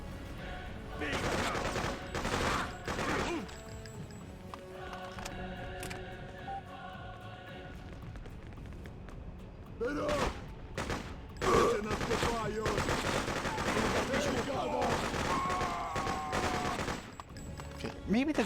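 Guns fire in Freedom Fighters in repeated bursts and single shots, loud and close, mixed with in-game voices shouting during a firefight.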